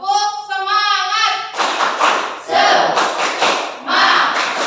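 A class of children chant a short sung call, then break into loud rhythmic spirit clapping and shouting in bursts, close and energetic.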